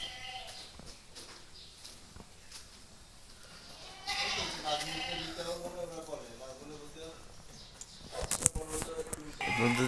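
Goats bleat on a farm that also keeps cows and chickens, with wavering calls rising midway and growing louder near the end, mixed with people talking and some shuffling noise.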